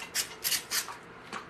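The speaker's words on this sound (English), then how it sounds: "take our spray bottle, spray them like this" Several short hissing spray bursts from a hand spray bottle misting microgreen trays, four quick puffs close by with brief gaps, alone without talk.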